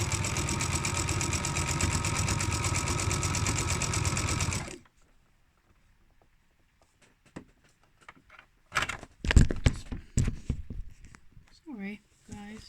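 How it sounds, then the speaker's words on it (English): A sewing machine stitches down a pajama waistband, a steady close-up mechanical whirr for several seconds before stopping; quiet handling noises and a few voiced sounds follow. "we're just letting the machine do its thing. And it's stitching it for us."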